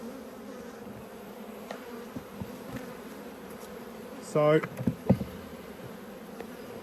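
Honeybees buzzing inside a hive frame feeder during an apiary inspection, a soft steady hum with a brief louder burst of buzzing near the end, and a short spoken word.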